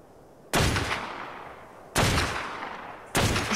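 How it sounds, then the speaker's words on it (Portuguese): Three loud gunshots ring out in ARK Survival Evolved on Xbox One, each a sharp crack with a long echoing tail, spaced roughly one to one and a half seconds apart. "Vou tentar dar um tiro na cabeça do carno ali"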